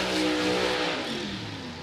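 A top alcohol funny car roars down a drag strip in qualifying, a loud, sustained engine howl with a falling pitch sweep as it passes and fades slightly away.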